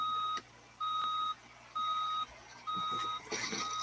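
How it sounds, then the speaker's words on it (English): A semi truck in BeamNG.drive backing up, its reverse alarm sounding four steady evenly spaced beeps over a low engine hum, fairly quiet. "the semi trucks, they do that beeping sound effect that they would in real life when you put them in reverse"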